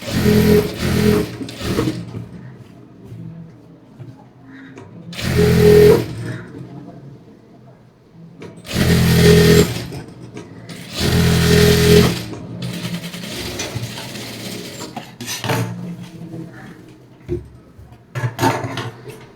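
A sewing machine stitches a one-inch folded hem in loud, close bursts of rapid mechanical whirring, separated by pauses while the fabric is turned. Someone talks softly in between.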